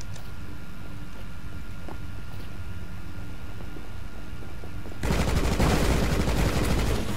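Gunfire in a video game erupts partway through, a loud, dense burst of rapid shots that follows a stretch of quieter background noise and continues to the end.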